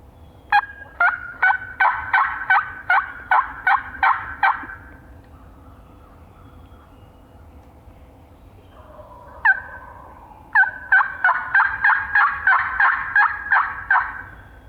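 Wild turkey gobblers on public land during a spring hunt, several rapid rattling gobbles in two long bursts with a single call between, fairly close and loud over a quiet outdoor background with no talk.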